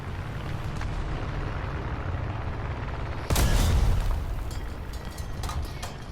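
A tank cannon fires in War Thunder ground realistic battle, one loud boom about halfway through over steady engine rumble, then a short ringing tail and some smaller clanks.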